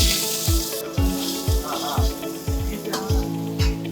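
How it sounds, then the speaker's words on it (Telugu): Onion frying in oil with garlic and green chilli for a paneer garlic-chilli dish sizzles steadily, while a spoon scrapes and knocks the pan about twice a second in a regular stirring rhythm. "ఆనియన్ నేను కొంచెం తిప్పుతాను."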